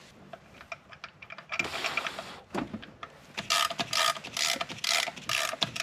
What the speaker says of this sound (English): Okay, I'm putting a couple of bolts in